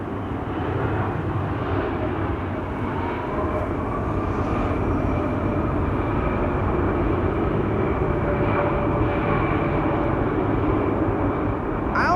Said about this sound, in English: the flight 1850 now about to land on runway 27